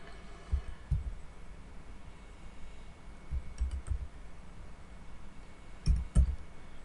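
Computer keyboard keys pressed in short clusters of soft clicks while entering GST details in Tally accounting software, quiet and close with gaps between bursts.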